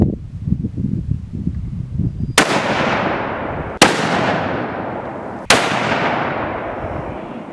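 Three loud, sharp hunting rifle shots fired while zeroing, each one a sudden crack followed by a long, decaying echo and spaced roughly a second and a half apart.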